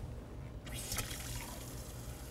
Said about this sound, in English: then we're going to fill up about 3/4 of the way with tap water